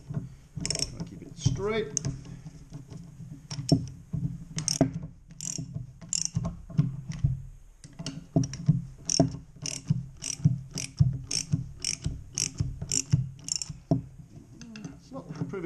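A ratchet wrench clicks in repeated quick bursts as a bearing puller draws the failed crank bearing from a Stihl BR600 4-mix leaf blower, each pull a sharp rattling run of clicks, close and clear, with someone speaking briefly.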